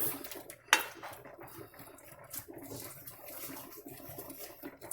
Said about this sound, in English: All of those flavors in the browning, and just stir it.